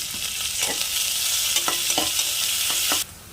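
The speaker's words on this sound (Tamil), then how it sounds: "வெங்காயத்தை நல்லா கோல்டன் ப்ரௌன் கலரில் வதக்கி எடுத்துக்கலாம்." Sliced onions sautéing toward golden brown with a little salt, a loud, close, continuous sizzle broken by a few scraping stirs of the spatula, then cutting off abruptly near the end.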